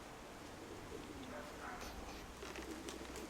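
Low, soft cooing of a pigeon amid faint outdoor background noise, with a few gentle flutters; the calls are quiet and moderately distant.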